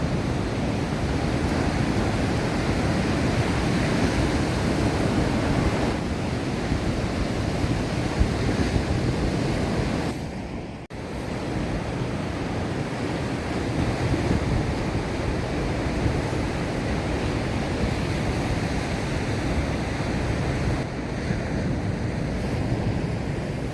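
Ocean waves wash onto a beach in Portugal in a continuous broad roar, with wind buffeting the microphone and only a brief lull partway through.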